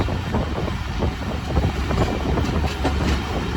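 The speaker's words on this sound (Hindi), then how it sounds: "रेलवे स्टेशन पहुंच रही है हमारी ट्रेन, और ये कि यहाँ पर भी स्लो हुई है" Awam Express passenger train rumbling steadily as it slows on approach to a railway station, a continuous loud rolling noise with low wheel-and-track rattle throughout.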